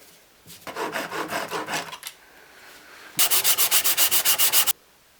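Two bursts of rhythmic back-and-forth sanding on wood for a coat hanger build, the first moderate and the second louder and closer, each stroke clearly separated with short pauses between.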